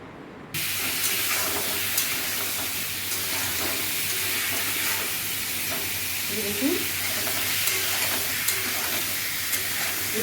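Mango pieces fry in a pan with turmeric, chili powder and cumin, giving a steady close sizzle and hiss that runs unbroken, with a few faint stirring scrapes and no talk.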